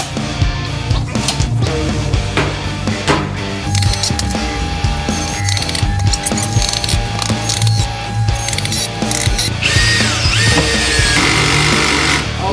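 Ratchet fastening bolts that hold a door frame down in a studio, giving a loud, close, nearly continuous run of fast metallic clicking and ratcheting with some clanks throughout.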